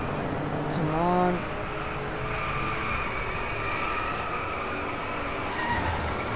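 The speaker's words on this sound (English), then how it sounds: "It's clearly an actual drift." A Porsche 911 drifting in the racing game Driveclub, its engine droning steadily while a tire skid whines briefly near the start, with a player talking over it.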